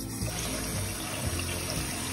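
Hot water runs steadily from a tap into a sink, a continuous close splashing rush with no break and no voices.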